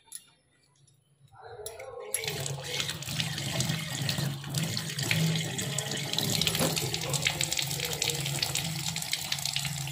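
Tap water gushes steadily into a sink while garlic cloves are rinsed under it, starting after a quiet moment and continuing as a loud, close, unbroken splashing rush.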